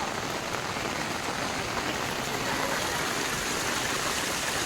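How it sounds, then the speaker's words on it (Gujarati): Rain pours steadily at Uparkot Fort in Junagadh during heavy rain, with water rushing and gurgling nearby in a dense, continuous wash of sound. "અહીંથી પાણી જાય છે ખડખડતું"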